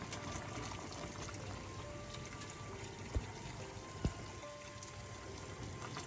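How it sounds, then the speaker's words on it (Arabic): Boiling water pours into a pot of fava beans slow-cooking on the stove, a steady trickling and splashing stream with a couple of sharp clinks, close and moderately quiet. "لما الميه هتنقص بالشكل ده نبدا نزودها شويه ميه مغليه تاني"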